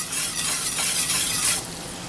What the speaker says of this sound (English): Got about a half a stick of butter in the pan with a little bit of garlic.